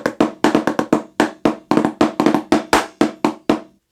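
Solo snare drum bar with accented paradiddle strokes and a rim shot, sharp close hits in an uneven rhythm of loud accents and softer taps, about fifteen strikes in under four seconds, no talking.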